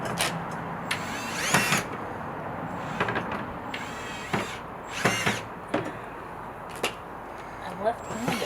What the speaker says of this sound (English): I need 2 hands to hold the drill